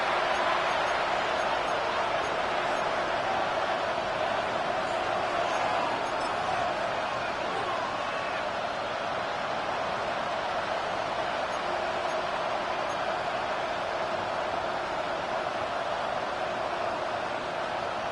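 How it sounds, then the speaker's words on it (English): Steady stadium crowd roar from a Madden 26 Broncos versus Jets football game, a dense continuous wash of cheering that holds level throughout, with commentary voices faintly under it. "The crowd cranking it up another notch before third and long."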